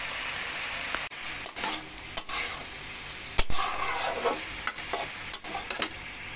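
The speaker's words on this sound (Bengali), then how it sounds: "টমেটোগুলো বেশ কিছুক্ষণ ধরে আমি ভাজা ভাজা করে নেব। ভাজা হতে হতে এটা সিদ্ধও হয়ে যাবে।" Tomatoes cooking in a pan for tomato chutney with a little salt, turmeric and slit green chillies, giving a soft steady sizzle broken by scraping spatula stirs and light taps against the pan, close and with no talk.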